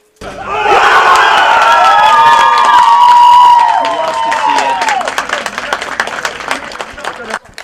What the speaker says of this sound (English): As Poland's looking to do a ritualistic cheer right here.